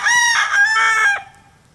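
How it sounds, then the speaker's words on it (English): A rooster named Smokey crows once, loud and close, a full cock-a-doodle-doo lasting just over a second before trailing into quiet, with chickens nearby outdoors beside a campfire. "that is our new rooster, Smokey."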